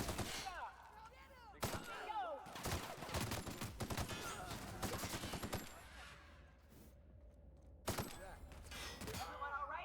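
Rifle gunfire during a firefight in the video game The Outer Worlds, bursts of rapid shots and sharp cracks in clusters, loud and close, with voices calling out briefly among them.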